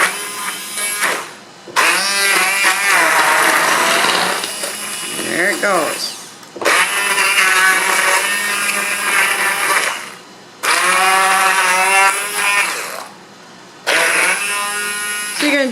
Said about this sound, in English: you're going to be using your nifty immersion blender